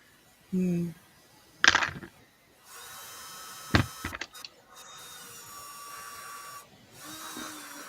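A short whirring drill runs in brief bursts between other clatters and a voice, close and moderately loud, with a steady hum behind.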